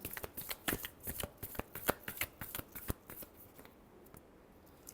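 Tarot cards are shuffled by hand in quick riffling bursts, a rapid rhythmic series of crisp flicks that slows and fades toward the end, close and quiet.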